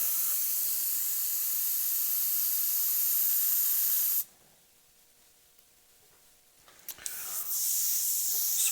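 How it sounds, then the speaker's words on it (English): A loud, steady airbrush hiss sprays for several seconds as the airbrush is back flushed, cuts off abruptly into quiet, then a few clicks and the hissing spray resumes. "I can back flush the airbrush in order to mix that in."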